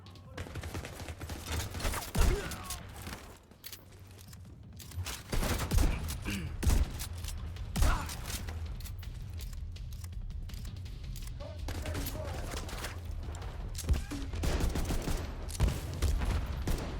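Gunfire crackles through a PvE firefight in the video game The Division 2, with rapid bursts, heavy booms and sharp single shots going off repeatedly over a continuous rumbling backdrop, with occasional voices in the mix.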